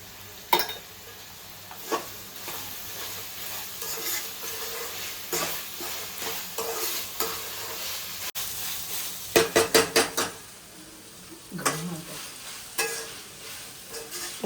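Fresh green peas stirred in a sizzling pan for mushroom fried rice, with a steady frying hiss and repeated sharp scrapes and clinks of a spoon against the pan, a quick flurry of strokes near the end.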